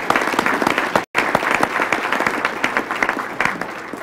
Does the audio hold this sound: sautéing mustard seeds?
no